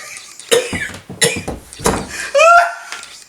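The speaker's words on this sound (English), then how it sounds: "Cough again." Several harsh coughs break out in quick succession, close and loud, mixed with throat clearing and a brief laugh or squeal.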